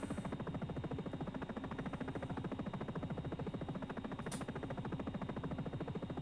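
Sikorsky S-76C helicopter in X-Plane 11 on final approach over Manhattan, a steady rapid rotor chop with a constant turbine whine, loud and continuous throughout with one brief high click near the end and no talk.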